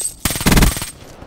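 Suppressed M8A7 rifle fire in Call of Duty: Black Ops 3, a short, loud rapid burst of muffled shots fired in quick succession, lasting under a second.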